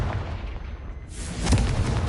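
Confringo fire-blast spell cast in Hogwarts Legacy: a sudden loud booming burst that swells into a rumbling explosion in the second half, over a dark in-game ambience.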